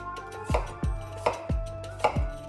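Very sharp thin knife chopping a small onion for manti dumpling filling, four crisp board strikes at an even, unhurried rhythm, close and clear with no voices.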